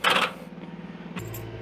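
Keys jingling and clinking at the door of a modern brick holiday house, a bright metallic burst at the start, quieter rattles, then another sharp clink near the end.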